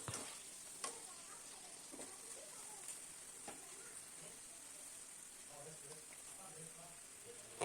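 Potato slices deep-frying in hot oil for homemade chips give a steady, fairly quiet bubbling hiss with scattered crackles and pops throughout, and a faint voice appears briefly in the background.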